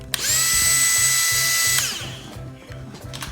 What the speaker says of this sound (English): It's really not that noisy as the wall part.